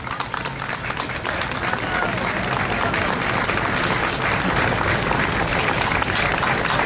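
A large audience at a Tibetan-cause gathering gives sustained applause, thick and even throughout, rising slightly after the first second and holding loud to the end.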